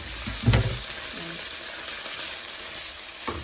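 Garlic and seasoning sautéing over medium heat in a pan for jerk salmon and rasta pasta, a steady soft sizzle throughout with a brief clatter near the start and another at the end.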